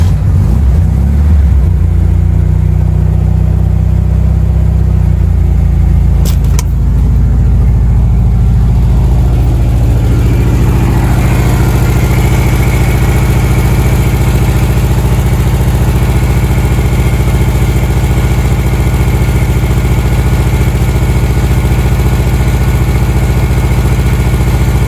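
The engine of a 1961 Volkswagen Beetle Manx-style dune buggy runs loud and close, a steady deep rumbling idle with a brief sharp click early on, holding a constant throbbing drone throughout.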